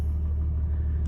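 Third-generation Ram truck idling, with a steady deep engine and exhaust rumble, close and constant, with no talking.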